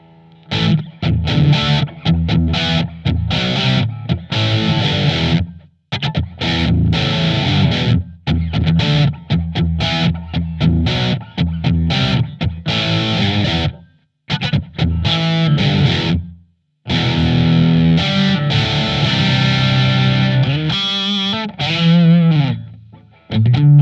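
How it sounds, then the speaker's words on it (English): Crunchy, distorted electric guitar through a Blackstar ID Core V3 amp on its super crunch setting with a touch of room reverb, loud chords and riffs played continuously with brief pauses between phrases. "Let's hear the super crunch with a bit of room."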